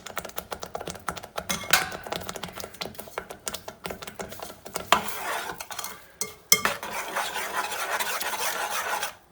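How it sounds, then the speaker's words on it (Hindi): A spoon scrapes and stirs mango jam with added sugar in a pan over high flame, producing a busy, continuous clatter of metal against the pan with no voices. "और इसको बराबर चम्मच चलाते रहेंगे"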